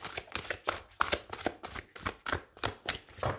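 Tarot cards being shuffled by hand in a quick, even rhythm of about ten crisp riffling bursts, close and clear with no talking.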